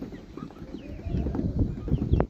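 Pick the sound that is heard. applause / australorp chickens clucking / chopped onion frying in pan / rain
australorp chickens clucking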